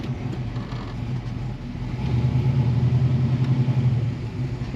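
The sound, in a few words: 1969 Chevrolet Camaro restomod with fuel injection driving off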